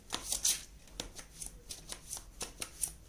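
Tarot cards are shuffled and drawn at close range, producing a series of quick riffling and flicking bursts in an irregular rhythm, fairly quiet with no talking.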